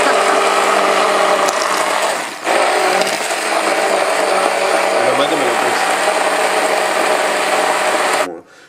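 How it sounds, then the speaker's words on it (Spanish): A kitchen blender whirs continuously at high speed, grinding oats for vegan waffles, a steady loud drone with a brief dip partway through before cutting off at the end. "si tienen una licuadora, en la licuadora"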